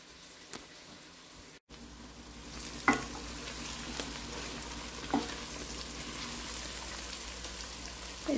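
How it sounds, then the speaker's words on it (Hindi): Onions frying in a generous amount of oil for a homemade fish curry, a steady close sizzle with occasional soft pops and stirring scrapes throughout, no talking. "थोड़ी देर इसको फ्राई करना है।"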